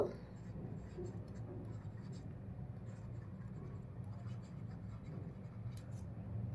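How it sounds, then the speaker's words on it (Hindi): An answer to a class 6 maths lines-and-angles problem written by hand, a faint continuous scratch of pen or pencil on paper under low background hum, with no clear speech. "तो इसका आंसर लिखेंगे"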